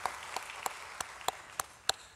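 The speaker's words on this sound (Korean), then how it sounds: "우리 하나님께 영광의 박수 올려드립니다." A church congregation during a Sunday worship service claps in unison, giving about seven evenly spaced, sharp claps at a brisk steady rhythm, faint and slightly distant in a reverberant room.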